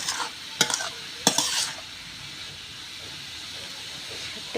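Kalai greens cooking in a pan with a whole-spice tempering and no garlic: a constant soft sizzle and hiss broken by two or three sharp scraping stir strokes near the start.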